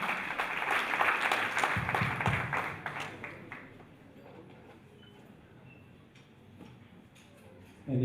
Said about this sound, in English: A hand of applause is coming